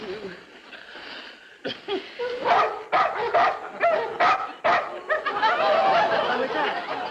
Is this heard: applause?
no